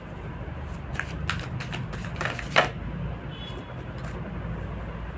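Tarot cards are shuffled by hand in a string of quick papery riffling bursts, steady and fairly close, with a louder snap near the middle and no talking.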